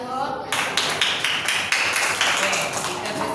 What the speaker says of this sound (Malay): Okey, kelas, beri tepukan kumpulan 1.